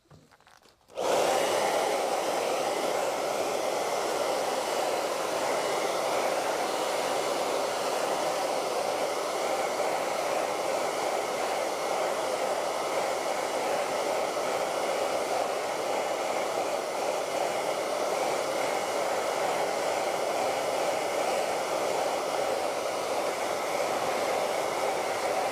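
A hair dryer blows on a piece of artwork made for a gypsy vardo wagon project, switching on abruptly and then running as a steady, loud, close whoosh for about twenty-five seconds with no talking.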